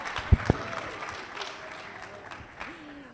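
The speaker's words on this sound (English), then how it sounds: "Give me a round of applause." Audience applause at a conference keynote interview: light, fairly quiet clapping that spreads through the room for about three seconds, with a few sharper claps near the start and faint voices underneath.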